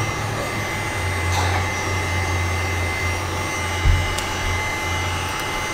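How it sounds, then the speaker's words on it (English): A heat gun blows over resin coasters to speed drying, a steady close whirring airflow with a constant low hum and one brief bump near the end. "you can hit it with a heat gun to dry this a little faster"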